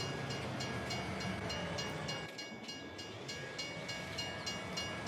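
A train pulls in at a station in the farming game Farming Simulator 22 with a steady rumble and rhythmic rail clatter, loud and alone.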